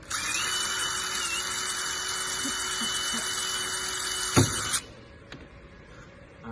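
A small electric drill whines at a steady high pitch for over four seconds, then cuts off abruptly with a clunk, leaving quiet room tone.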